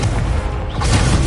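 A deep, loud magical blast from the Incendio fire spell erupts in Hogwarts Legacy during a tournament duel, with a roaring burst that fills the short moment.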